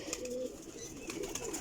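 Chini pigeons give brief, faint cooing calls, a short throaty murmur close by against a quiet background.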